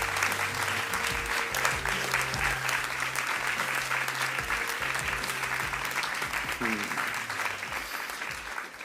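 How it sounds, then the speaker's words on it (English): Sustained applause from a large audience at a writers' awards ceremony fills the room, steady and dense, with a few faint voices underneath. "please give her a big round of applause"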